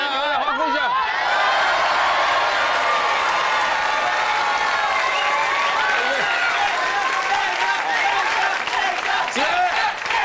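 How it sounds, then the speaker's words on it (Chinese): An outdoor variety-show audience in Yuanlin, Changhua cheers and applauds loudly, with whoops and laughter over sustained clapping and voices talking through the crowd noise. "有没有欢呼，有没有欢呼，来欢呼一下"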